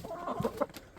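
A rooster and his granddaughter hens clucking together in a poultry yard, a short run of soft overlapping clucks and low calls at moderate distance, with no talking.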